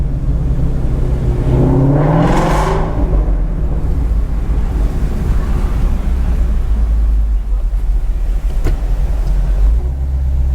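Ford Mustang GT350 with the resonator deleted gives one quick rev blip from about 2,500 to 3,000 rpm, a loud rising then falling growl over a deep idle rumble that continues steadily afterward.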